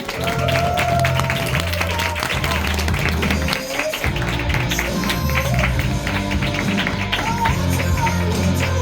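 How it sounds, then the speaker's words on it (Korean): Audience applause welcoming a speaker at a business group meeting, a steady wash of clapping carried under loud, continuous background music with a heavy repeating bass line for the whole stretch. "큰 박수 부탁드리겠습니다"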